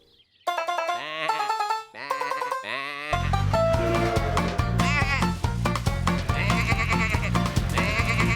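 Several loud cartoon sheep bleats ring out, first in separate cries, then overlapping with a dense, continuous chorus of bleating.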